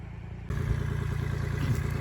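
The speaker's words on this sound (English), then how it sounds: "Well, I got the tractor warming up." A Kubota L2501 tractor's diesel engine warming up, a sudden loud onset settling into a steady, close, low idling chug with a slight mechanical clatter and no voices.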